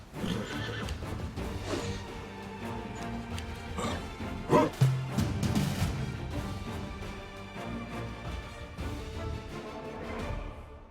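A horse whinnies loudly in the fantasy game Pathfinder: Wrath of the Righteous, its neigh rising over dense battle music and clatter, with hooves and crashes mixed through the busy scene.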